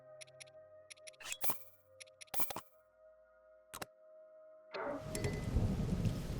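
Thunderstorm in Zelda: Tears of the Kingdom, with sharp thunder cracks and rumbles breaking over a quiet ambient backdrop before rain rises into a steady, loud downpour near the end.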